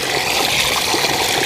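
Water splashes steadily as someone washes outdoors, a continuous close rush and trickle that fills the whole stretch with no voices.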